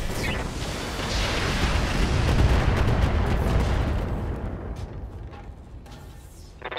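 A destroyed enemy mech explodes in a video game with a heavy, rumbling blast that swells loud and then slowly fades over several seconds.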